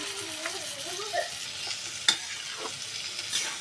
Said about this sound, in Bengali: আমি মটরশুঁটি আর টমেটো এখন একটু ভালো করে কষিয়ে সামান্য একটু জল দেবো